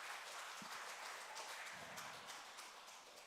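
A church audience claps together for a few seconds, a soft steady wash of applause heard from a distance with no talking over it.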